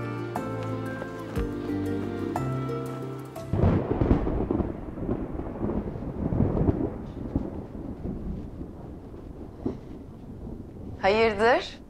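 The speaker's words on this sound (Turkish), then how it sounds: "Fena bastıracak yağmur." A thunderstorm with heavy rain follows a brief stretch of music: deep rolling thunder rumbles and a dense rush of rain fill the remainder, joined near the end by a short voice.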